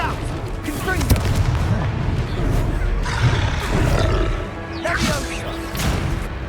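A Confringo blasting spell explodes in the video game Hogwarts Legacy: loud, booming bursts with roaring rumble amid dense, continuous battle noise throughout.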